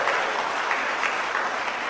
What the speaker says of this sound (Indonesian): Tepuk tangan saja kasih bapak-bapak ini.